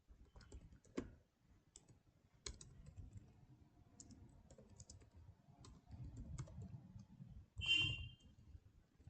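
Typing code on a computer keyboard, soft irregular clicks and key taps heard close but quietly over low background hum.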